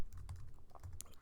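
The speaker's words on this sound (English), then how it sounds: "I'm going to type import" Quick light keystrokes on a computer keyboard as Java code is typed, a short run of soft close-up clicks in an irregular rhythm with no talking.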